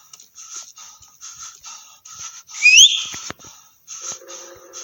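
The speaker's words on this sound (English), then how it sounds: "Did you just whistle back?" A person whistles a run of short, clear notes in a steady pattern, then gives one louder rising whistle in the middle, followed by a few softer trailing notes in a quiet room.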